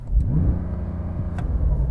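Porsche 911 Turbo S 992 engine held against the rev limiter in neutral, a loud close droning roar with a stuttering, slightly fluctuating pitch as the limiter cuts in, steady for about two seconds.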